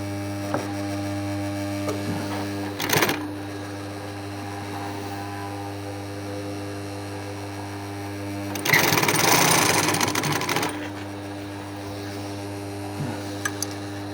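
A sewing machine stitches a sofa back cushion cover in two short bursts of rapid whirring, the second longer, over a steady mains-like hum.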